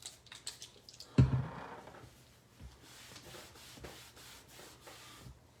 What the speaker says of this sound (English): My little laminator likes to make this groaning noise.